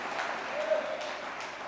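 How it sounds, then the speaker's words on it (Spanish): A church congregation applauds together in a steady, continuous wash of clapping that holds at an even level throughout, without a break. "Démosle un fuerte aplauso al Espíritu de Dios"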